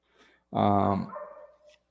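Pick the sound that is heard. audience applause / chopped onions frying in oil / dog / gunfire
dog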